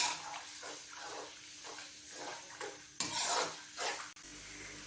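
Crushed ginger and garlic sizzling in a pan, a soft steady crackle with rhythmic stirring scrapes and a clank near the end, no voices.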